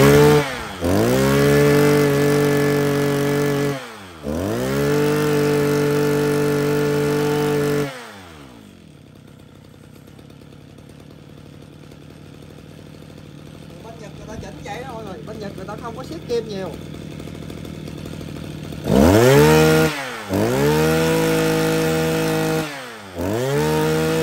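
A used Japanese Mitsubishi TL261 26cc grass trimmer with a 33 mm bore, not yet tuned, runs loud and close in long high revving bursts, drops to a rough idle, then revs hard again.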